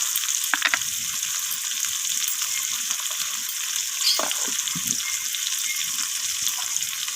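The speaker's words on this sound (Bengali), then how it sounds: "এইভাবে নাড়াচাড়া করে আমি ভেজে নিচ্ছি আলুটাকে" Potato pieces with turmeric and salt frying in oil while being stirred, a constant close hiss with a few scraping and clinking stir sounds, no voices.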